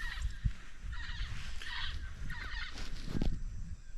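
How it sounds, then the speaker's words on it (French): Two green birds call from a tree in the Amazon forest, harsh honking squawks repeated in short bursts, moderately near, over a quiet background of rustling and small knocks. "Écoutez les bruits là, il y a 2 oiseaux verts dans l'arbre."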